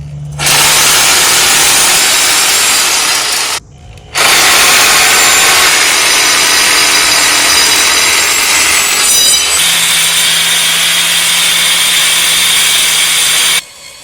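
A loud, continuous power saw grinds through a metal bar for a seat bracket at close range, running in long unbroken stretches with two short pauses.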